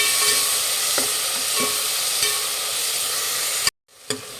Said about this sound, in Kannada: ಒಂದೆರಡು ಟೊಮೊಟೊನ ಸಣ್ಣದಾಗಿ ರೀತಿ ಹೆಚ್ಚಿಬಿಟ್ಟು ಹಾಕ್ಕೊಳ್ಳಿ. ಫ್ರೈ ಮಾಡಿ.